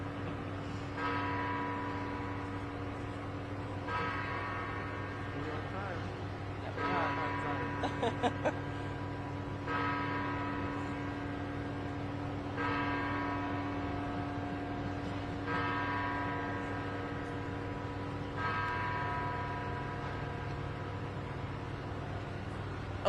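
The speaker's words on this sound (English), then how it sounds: "I'm going to let the bell finish ringing" Church bells ring out in slow, evenly spaced peals over a steady low hum during an outdoor press conference, with a brief cluster of quicker strikes midway.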